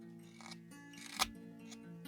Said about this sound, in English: Use a paring cut here and just shave that off.